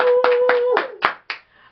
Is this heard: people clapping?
yes